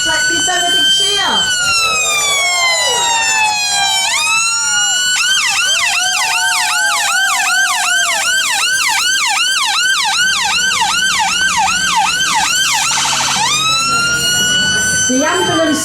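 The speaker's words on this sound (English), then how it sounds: "here comes the ambulance" Loud ambulance siren wailing nearby at a 999 emergency services day at Wicksteed Park, switching between a slow rising wail and a fast warbling yelp, with a crowd faintly audible beneath.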